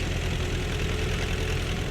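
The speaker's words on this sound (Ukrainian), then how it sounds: "І цей трактор у нас LTZ t 40 АМ" LTZ T40 AM tractor engine idling in Farming Simulator 17, a loud, steady low rumble with an even throb, close and continuous with nothing else audible.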